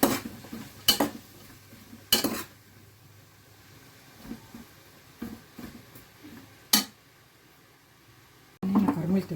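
Spoon stirring onions as they caramelize in a pan: sharp metallic scrapes and clanks in irregular bursts, with quiet sizzling between them and a louder clatter at the end.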